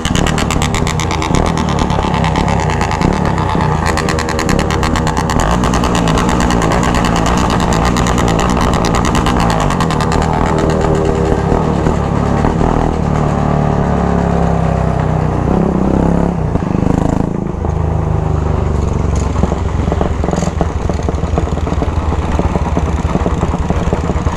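Many motorcycles on a large Christmas group ride through a favela produce a dense, continuous engine drone with revving surges, loud and close throughout.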